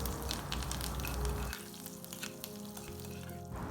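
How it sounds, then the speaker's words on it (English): Green chilies and curry leaves fry in hot ghee with a loud, dense sizzle that drops to a softer, steady crackle partway through, close up with no talking. "Then add green chilies, curry leaves and fry for a few seconds."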